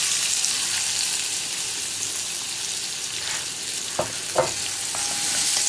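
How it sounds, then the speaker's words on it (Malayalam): Chopped onion frying in hot oil, a steady close sizzle with a couple of brief utensil knocks near the end. "ഇനി നമ്മുടെ ഈ ഒരു എണ്ണയിലേക്ക് നമ്മൾ കട്ട് ചെയ്ത് വെച്ചിരിക്കുന്ന ഉള്ളി ചേർത്ത് കൊടുക്കുക."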